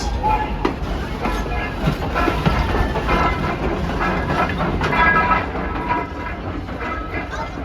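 An O-gauge model Thomas engine runs along a home layout, giving a steady rolling rumble with rapid clicking wheel-on-track noise throughout, close and continuous, with a few sharper clacks.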